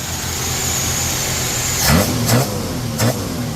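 A 1965 Dodge Dart GT V8 with dual Holley carburetors idles with a steady low rumble, then blips the throttle in three short revs that rise and fall quickly.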